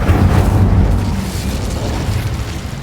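The Incendio fire spell is cast in the wizarding game Hogwarts Legacy: a loud, close, whooshing burst of flame with a deep rumble that holds steady for a few seconds, with no voices.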